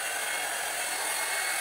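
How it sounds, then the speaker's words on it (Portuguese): Hot air brush hair dryer running: a steady, close, breathy airflow hiss holds at an even level from start to finish. "Toda vida eu tenho dificuldade de secar com essa escova"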